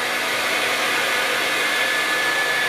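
A hair dryer blows steadily on an epoxy countertop, a loud continuous broadband whoosh lasting the whole stretch with no voices.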